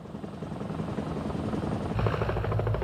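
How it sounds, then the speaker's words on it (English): An armed helicopter gunship flies close by, its rotor chopping in a fast, steady beat over a loud engine drone that grows stronger toward the end. "a reconnaissance element of 2 to 4 armed helicopters preceded the flight by 1 to 5 minutes to evaluate the situation up ahead"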